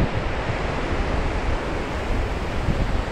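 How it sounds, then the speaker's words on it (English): Strong wind buffeting the microphone on a beach at Cape San Blas, Florida, a loud continuous roar mixed with surf, with no voices. "sorry about the wind. It is windy out here"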